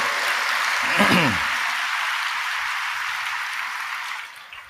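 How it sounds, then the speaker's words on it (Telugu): A church congregation claps in praise during a sermon, a dense steady burst of applause that gradually thins out, with a brief voice near the start. "నీకు అర్థమైతే చప్పట్లు కొట్టి దేవుణ్ణి మహిమపరచు"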